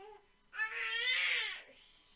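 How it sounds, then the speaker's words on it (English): An infant cries and screams in one sustained, loud wail that rises and then tapers off, with no talking over it. "and then the baby screaming"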